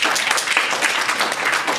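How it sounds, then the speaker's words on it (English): A conference audience in New York claps in a brief, dense, even burst, loud and close with no voices standing out. "Round of applause, please"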